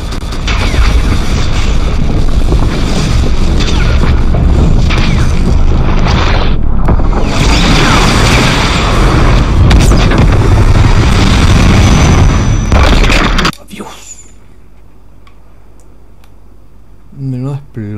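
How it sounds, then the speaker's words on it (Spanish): Rocket launch explosion in Fortnite, a loud sustained roaring boom with heavy rumbling that cuts off abruptly into near silence, while players talk over it. "Explosión, loco."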